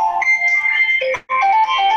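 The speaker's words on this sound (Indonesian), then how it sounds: "Maaf, ada suara telepon." A telephone ringtone sounds during an online Zoom class meeting, a steady electronic tone that plays in two bursts with a brief gap, fairly loud and alone with no talking.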